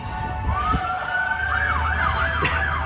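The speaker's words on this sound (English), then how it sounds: "Apologies for the fire engine in the back there." A wailing fire engine siren sweeps up and down in the distance, steady and clear over low background traffic noise, in Newcastle.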